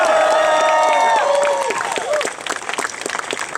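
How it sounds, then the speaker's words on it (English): Crowd applause and cheering at a political rally held by a presidential candidate in Minneapolis, a dense burst of clapping that swells and then thins out, with a voice ringing over the start. "Let's give them a round of applause"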